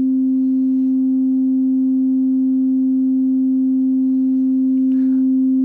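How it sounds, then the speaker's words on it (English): A pure sine wave test tone from an electronics low pass filter demonstration, one steady loud pitch holding unbroken throughout, with a brief faint rustle near the end. "There's our sine wave"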